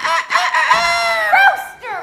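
A human voice imitates a rooster crowing, a loud, close, drawn-out cock-a-doodle-doo call with rising and falling pitch lasting about two seconds.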